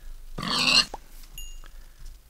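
Pigs dying in Minecraft: a loud, short grunting squeal up close, followed by a couple of brief fainter game blips and clicks.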